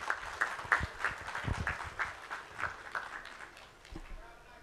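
Audience applause at a keynote session of a rail and transport expo, a steady wash of clapping from a crowded hall sustained over several seconds with faint rhythmic claps standing out.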